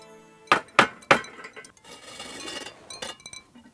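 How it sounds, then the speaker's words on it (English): A celadon-glazed bowl cooling after kiln firing gives off sharp, close glassy clinks as its glaze crackles: three distinct pings in quick succession, then softer, scattered ticks. "The cracking sounds you hear are caused by the glaze adjusting to the temperature change."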